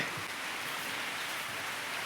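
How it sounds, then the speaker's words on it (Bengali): Rain falls steadily on a tin roof, an even, dense hiss of countless drops that stays loud and unbroken throughout, with no voices. "দেখতে পাচ্ছ টিনের চালের উপরে বৃষ্টি পড়েছে, এখন বৃষ্টি হচ্ছে"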